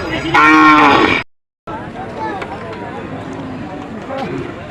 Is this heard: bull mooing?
yes